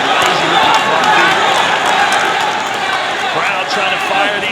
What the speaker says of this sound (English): Crowd trying to fire these guys up.